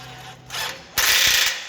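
A nut on the spring-loaded chain tensioner of a Mecmar grain dryer is tightened with a ratcheting tool, two brief close bursts of metallic clicking, the second louder.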